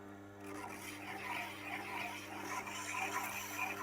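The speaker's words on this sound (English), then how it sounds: "I always polish the back of the burr first to weaken it where it grips onto the main metal" A knife's burr is polished off on a sharpening surface, the back of the burr first, with light strokes up high on the apex, giving a steady, close, soft rubbing rasp that runs continuously without talk.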